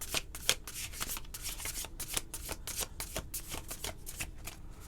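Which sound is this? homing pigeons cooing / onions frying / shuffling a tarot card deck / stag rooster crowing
shuffling a tarot card deck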